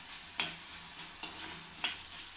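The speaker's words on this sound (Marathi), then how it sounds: "आता ह्याच तेलामध्ये आपल्याला धने भाजून घ्यायचे." Coriander seeds roast in a little oil for a Marathi chutney, a faint, quiet sizzle punctuated by three sharp stirring scrapes spaced roughly a second apart.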